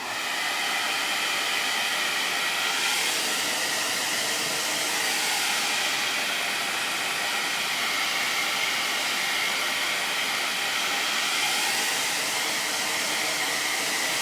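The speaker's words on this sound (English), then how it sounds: "I'm going to blow dry for just a second" A hair dryer blows steadily on wet paint, a loud, even, close rush of air that runs unbroken for the whole stretch with no talk over it.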